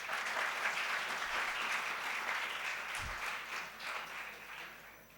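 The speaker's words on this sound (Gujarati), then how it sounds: "એમના માટે જોરદાર તાળીઓ થઈ જાય." Audience applause at a climate action summit valedictory ceremony, steady dense clapping from a crowd lasting throughout, loud and sustained with no talk.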